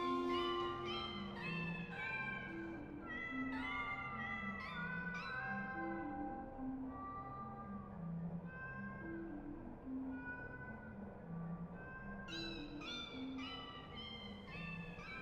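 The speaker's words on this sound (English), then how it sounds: "all these cats are going to come by and they're going to be meowing" Several cats meow repeatedly in the video game Tacoma, overlapping calls rising and falling over a steady low musical drone throughout.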